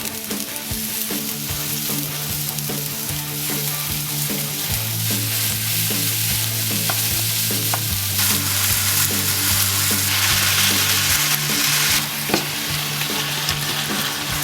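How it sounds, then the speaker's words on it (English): Minced meat browns on high heat for shepherd's pie, a loud, continuous sizzle and crackle with a steady low hum beneath it throughout. "Cook the mince on a high heat until it's cooked through."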